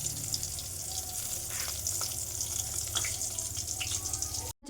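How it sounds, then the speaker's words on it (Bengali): Eggplant slices fry in an oil wok with a steady hissing sizzle, soft and close, running evenly before it cuts off abruptly near the end. "কড়াইটাতে এখন বেগুন ভাজা"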